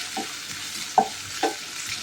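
Sliced tomatoes cooking in a pan for an egg dish, a soft low sizzle with a few light scraping stirs of a utensil against the pan, quiet and close.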